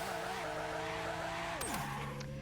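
Engine note from a car in the game Car Crushers 2 holds steady, then drops sharply as the wheels spin, with a brief squeal of tyres; loud and continuous, no talk.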